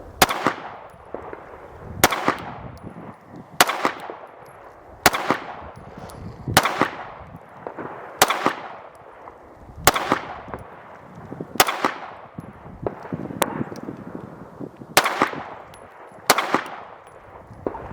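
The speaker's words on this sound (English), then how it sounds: "I did maybe about 10 shots from about 15 yards" Ten or so sharp pistol shots from a ported, compensated Miller Precision Kovert 2011 crack out at an outdoor range, evenly spaced about a second and a half apart, each loud blast trailing off quickly.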